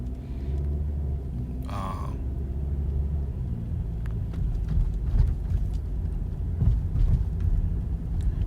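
A car drives along, a steady low road rumble and engine drone with a brief higher squeak near the start and a few faint knocks and clicks, no talking.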